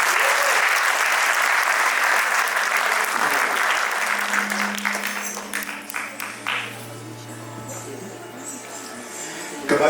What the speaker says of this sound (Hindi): इनके लिए एक बार फिर से तालियां हो जाए